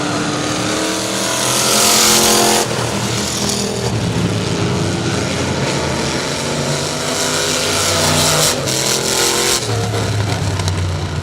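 Race cars at Saratoga Speedway roar continuously at close range, engines rising and falling in pitch as they pass and accelerate, loud and steady from start to finish.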